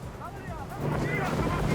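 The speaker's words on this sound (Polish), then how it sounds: "Gdy 300-konny silnik motorówki osiągnął pełną moc" A 300-horsepower motorboat engine runs at full power during a coastal patrol chase off Spain, giving a steady, loud roar with wind buffeting the microphone and waves in the background, the roar rising partway through.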